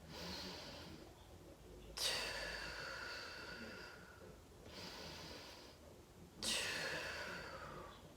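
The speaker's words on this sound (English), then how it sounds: "So take some deep belly breaths." Deep diaphragm belly breathing: two slow, audible breath cycles, each with a sharp inhale and a long, airy exhale, close and intimate in a quiet space.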